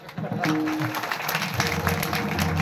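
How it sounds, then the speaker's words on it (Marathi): A crowd at a kirtan gathering breaks into applause, a dense patter of clapping that holds steady, with a voice briefly audible underneath. "मोकळ्या वाचा जरा टाळ्या"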